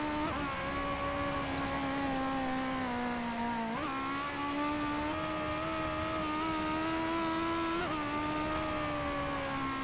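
A speedway car at Limaland Motorsports Park runs steadily around the track, its engine holding a sustained droning tone with slight pitch dips and rises as it circles, loud and continuous.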